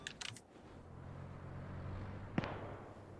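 Gunfire in the military shooter game Arma 3: a few faint distant pops at the start, then a single sharper crack later over a low steady rumble.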